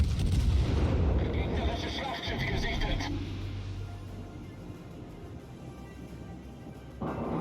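Heavy naval gun salvos from the Hindenburg cruiser in World of Warships, firing in booming bursts with a lingering low rumble, loud and close, while someone talks over the action.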